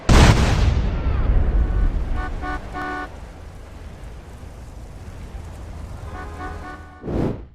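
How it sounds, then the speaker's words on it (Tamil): A petrol pump explodes in the video game Mafia 2, a loud booming blast at the start that fades into a long rumbling tail with tonal game sounds over it, then a second short burst near the end. "மாஃபியா 2ல பாத்தீங்க அப்படின்னா பெட்ரோல் பங்க் சொன்னீங்கன்னா பெட்ரோல் பங்க் டம்முன்னு வெடிக்கும்"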